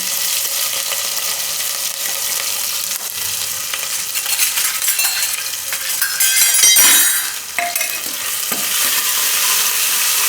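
Ginger, chillies and asafoetida sizzle and crackle in hot ghee with cumin seeds, stirred steadily for a dal-and-grain khichdo, with a louder burst of frying and clinking partway through.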